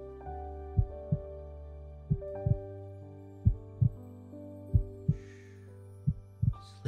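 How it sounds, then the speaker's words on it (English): A slow, steady heartbeat thumps in paired low beats, close and soft over a faint sustained hum, with no speech. "Just listen to the sound of my heartbeat."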